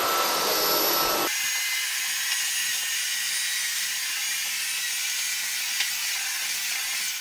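Cecotec Conga Rockstar stick vacuum cleaner running at maximum power, a steady loud whine and airflow hiss that holds on throughout after a brief louder burst at the start.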